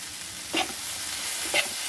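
Two short scraping stirs, spaced about a second apart, as jhinga aloo posto (prawns, potato and poppy seed paste) is mixed with a drizzle of raw oil in a pan, over a soft steady background with no talking.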